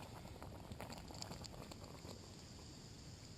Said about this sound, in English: that's bubbling away on just barely any flame there